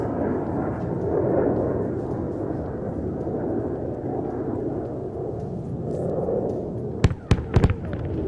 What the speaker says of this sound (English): The fragmentation bombs have shredded the target to bits.